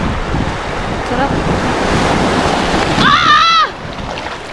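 Strong ocean waves surging and crashing on a beach, a loud continuous roar of surf mixed with heavy wind buffeting the microphone, with a brief shout from a person near the end.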